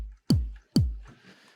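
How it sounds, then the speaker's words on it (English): A synthesized wooden stick transient made in Massive X for a kick drum patch strikes twice, each a sharp, dry knock that drops quickly in pitch, followed by a faint noisy tail. "So I'm going to add a stick sound."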